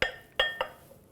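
Ricotta being added to a bowl of spinach, heard as three quick clinks of a utensil against the bowl that fade into light kitchen clatter. The sounds are close, with no talk.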